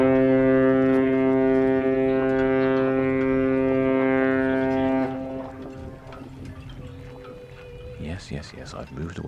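Deep, sustained horn of the Carnival Breeze, a 130,000-ton Dream class cruise ship leaving Southampton, blasting loud and steady for about five seconds, then cutting off to ambient harbor noise and faint voices.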